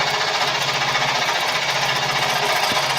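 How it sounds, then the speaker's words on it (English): Noisy scroll saw as it starts cutting, a loud, dense, continuous mechanical rattle with rapid vibration, close and steady. "some of these saws get noisy when they first start cutting"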